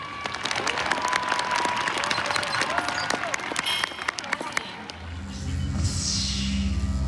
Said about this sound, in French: Je vous invite donc à encourager notre savante Ada en l'applaudissant bien fort